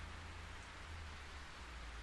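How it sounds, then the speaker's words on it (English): Steady rain pours in the horror video game Project Zero 3, a dense, even hiss with a low rumble underneath, continuous and fairly quiet with no voices. "I think I hear the sound of rain."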